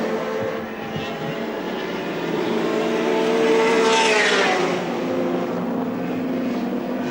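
Holden Commodore touring race cars at Lakeside during a 1984 Australian Touring Car Championship round roar past, engine note swelling to a loud peak midway and then fading as they pull away.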